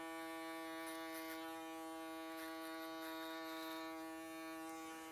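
Electric shaver buzzing steadily while cutting hair in a barbershop, a constant close hum with strong harmonic whine throughout, no talking over it.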